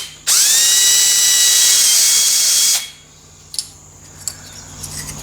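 A 2mm pilot drill bit spins up with a loud, high whine on a Bridgeport-type knee mill, drilling through metal jigs for about two and a half seconds, then stops, leaving faint clicks and taps.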